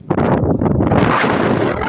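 Strong wind blowing in a heavy afternoon rainstorm with thunder nearby, a loud, continuous broadband roar that buffets steadily throughout with no pause.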